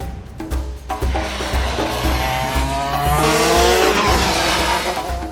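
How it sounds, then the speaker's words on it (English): Go-karts racing around a circuit in Bahrain, engines whining and rising in pitch with loud tire squeal as the karts push through corners, a continuous close roar. "We are here for go-karting."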